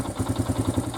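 Honda XR100R motorcycle engine idling cold, a rapid even chugging putter that pulses steadily and close by, heard alone.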